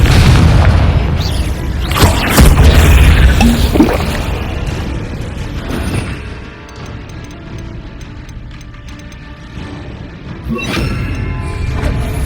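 A Confringo blasting curse in Hogwarts Legacy sets off loud booming explosions up close, followed by rumbling crashes and debris, with a further burst near the end.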